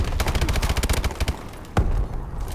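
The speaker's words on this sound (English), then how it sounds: "Oh wow, someone's got a shotgun." Rapid gunfire in a Call of Duty Exo match, a dense fusillade of loud close shots in quick succession, then a heavy single blast after a short lull, continuing with further firing.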